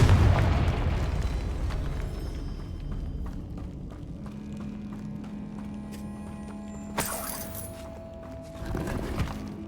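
A Confringo blasting spell in Hogwarts Legacy explodes in a heavy boom at the start that decays into a rumbling tail, with a few sharper pops and bursts following later.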